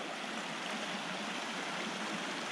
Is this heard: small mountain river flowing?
yes